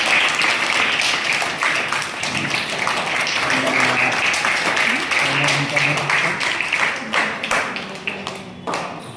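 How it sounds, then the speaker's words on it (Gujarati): A crowd claps in a full, sustained round of applause at a children's summer yoga camp in Kheda, Gujarat, with a voice speaking underneath as the clapping thins out toward the end. "એમનું બી સ્વાગત કરીશું આપણે તાળીઓથી"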